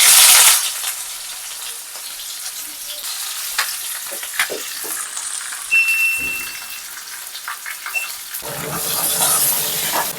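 Onion dropped into hot oil with cumin hisses and crackles in a pan, with loud sizzling bursts at the start and end and quieter stirring noises between.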